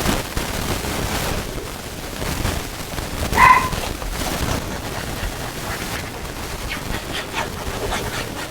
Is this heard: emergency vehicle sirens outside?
no